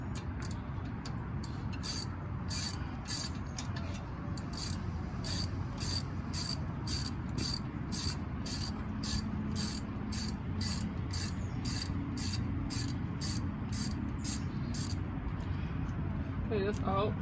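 A hand ratchet clicks in quick, evenly paced bursts while backing out a screw on the brakes of a 2004 Nissan Murano, close and fairly quiet, with people talking faintly underneath.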